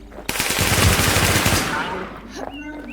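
Machine gun fire bursts out in the online shooter Warz Infestation as a dense, loud rattle of rapid shots lasting over a second. The fire fades into a tail of echo, and faint voices can be heard.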